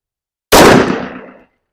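Single pistol shot from a Smith & Wesson M&P 5.7 at an outdoor range, a sharp loud bang with a short decaying tail, heard alone with no talk.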